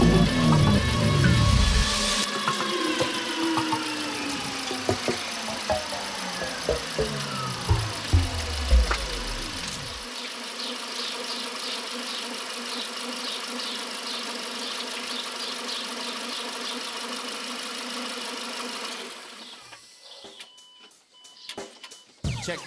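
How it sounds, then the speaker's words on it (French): Renault Scénic 2 with a 2.0 turbo engine starting and settling into idle, a rising whir that fades into a steady low mechanical rumble with faint ticking, close by, ending with clunking near the end. "Là je démarre le moteur."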